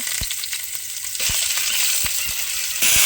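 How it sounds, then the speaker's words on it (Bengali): Onions frying in hot oil in a wok, a steady bright sizzle that swells louder partway through and again near the end, punctuated by a few sharp clinks of a utensil against the pan, close and without talk. "তেল দিলাম কড়ায়, পেঁয়াজ দিলাম তেলের মধ্যে"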